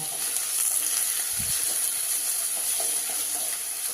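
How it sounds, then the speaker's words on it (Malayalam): Chopped green chillies and ginger sauté in an oil-filled pan for inchi puli, giving a steady close sizzle throughout with a faint spoon knock partway through. "നാല് വലിയ പച്ചമുളക് ചെറുതാക്കി അരിഞ്ഞത്. ഒന്ന് നന്നായി വഴറ്റിയെടുക്കട്ടോ."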